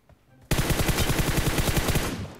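In PUBG Mobile, an automatic weapon sprays at an enemy in one loud, close, continuous burst of rapid shots that starts abruptly and runs for about two seconds.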